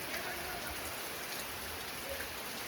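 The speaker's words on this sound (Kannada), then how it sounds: "Full rain." Heavy rain falls steadily in Sakleshpur, a dense, even hiss of drops with no break, fairly close and moderately loud, with no voices over it.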